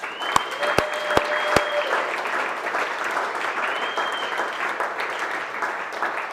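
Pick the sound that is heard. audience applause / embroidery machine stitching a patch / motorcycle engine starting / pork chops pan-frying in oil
audience applause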